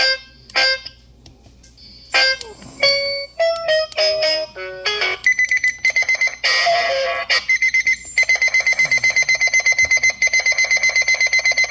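A very loud alarm clock rings in sharp, shrill electronic bursts, first in irregular beeps and tones, then settling into a fast, steady repeating pulse that fills the room.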